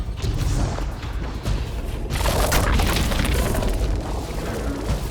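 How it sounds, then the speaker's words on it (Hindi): A grenade going off in Destiny 2 during a campaign mission, a deep rumbling blast over steady low game noise, with a second sharper burst swelling about two seconds in. "ग्रेनेड मारो ना इन पे, उस पे"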